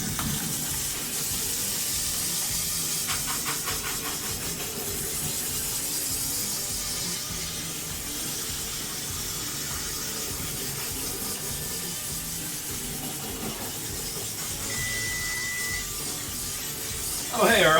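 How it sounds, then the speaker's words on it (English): Cold tap water runs steadily over rice being rinsed for an eel dish, a continuous splashing hiss near and loud, with occasional clinks. "Rinse the rice real good here."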